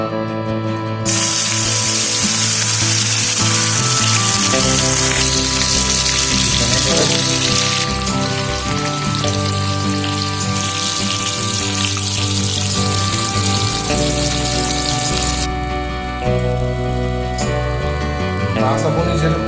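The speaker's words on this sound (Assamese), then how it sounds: "ইয়াৰ পিছত আমি মাছখিনি ফ্ৰাই কৰোঁ।" Fish rubbed with salt and turmeric fries in hot oil for a mustard fish curry, giving a loud, steady, dense sizzle and spatter that runs continuously throughout, with some music-like tonal sound underneath.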